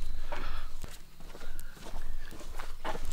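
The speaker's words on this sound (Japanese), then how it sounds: "今絶対プラスワンあったぞ、 足音。" Footsteps walk over ground scattered with fallen acorns at a night-time wooded spot, several distinct steps crunching close by at an uneven pace against a faint background.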